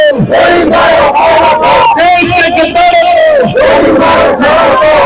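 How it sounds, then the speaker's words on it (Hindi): Protest march crowd chanting anti-Pakistan slogans in unison in a village in Delhi, demonstrating against the Pahalgam terror attack; loud, rhythmic massed voices shouting repeated phrases close by, filling the whole stretch. "पाकिस्तान मुर्दाबाद के नारे आप सुन रहे हैं।"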